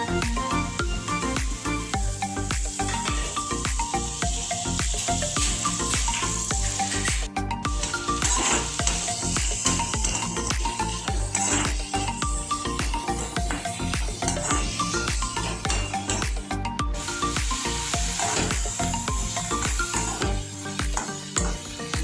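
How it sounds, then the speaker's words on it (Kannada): Cloves, black pepper and coriander seeds sizzle steadily in a hot pan for masala puri chat, a dense continuous frying hiss with occasional stirring and clinks of utensil on metal, close and fairly loud, no talking. "ಲವಂಗ ಕಾಳು ಮೆಣಸು ಧನಿಯಾ ಇಷ್ಟನ್ನು ಇದರಲ್ಲಿ ಹಾಕೋತಾ ಇದ್ದೀನಿ"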